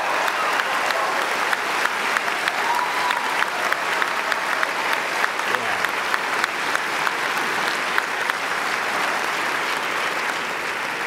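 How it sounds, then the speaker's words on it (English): A graduating class and their audience applaud at a university commencement ceremony, a broad, even wash of clapping heard from some distance, moderately loud and sustained without speech. "give yourself a round of applause,"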